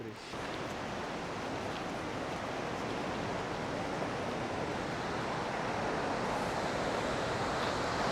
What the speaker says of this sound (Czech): Tohle jsou jedny z největších vodopádů, co jsou tady v okolí.